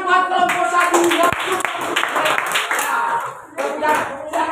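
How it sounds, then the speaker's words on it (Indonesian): A classroom of students applauds group 1 with a burst of overlapping hand claps that runs for several seconds, mixed with chatter and a teacher's voice, briefly easing before the clapping picks up again. "kasih tepuk tangan buat kelompok 1 ya"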